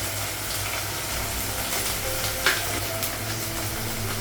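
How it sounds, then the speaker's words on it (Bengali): Ginger paste, garlic paste, turmeric and salt frying in a pan in a home kitchen, a soft steady sizzle with a sharp stirring scrape or clink midway. "মশলাগুলো একটু ভেজে নেব।"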